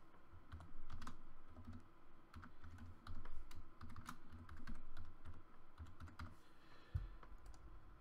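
A password tapped out on a computer keyboard, a steady run of soft, close key clicks with brief pauses and a quiet room behind it.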